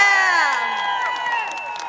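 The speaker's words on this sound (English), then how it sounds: "Can I get a round of applause for Brandon Straught?" Cheering crowd at an outdoor political march in Washington, DC, with whoops and shouting voices rising over a dense, continuous roar of people close by.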